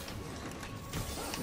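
Mechanical clanking and creaking of tank machinery during a battle in Spider-Man: Miles Morales, a steady grinding texture with a slightly louder surge near the end, no talk over it.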